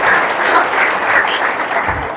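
At a selection-results ceremony honouring successful CGL-2022 candidates, a crowd claps loudly and densely. The applause stays steady and close throughout the short burst, with no talking over it.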